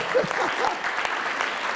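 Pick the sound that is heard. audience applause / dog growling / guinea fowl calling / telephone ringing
audience applause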